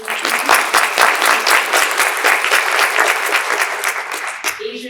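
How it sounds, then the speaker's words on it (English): Audience at a domestic violence summit gives a dense, sustained round of applause for partner organizations, steady and fairly loud for several seconds before a voice picks up at the very end. "feel free to stand up so we can give you a round of applause"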